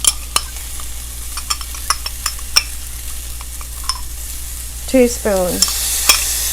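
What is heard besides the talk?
garlic stirred and sizzling in pan for Mexican rice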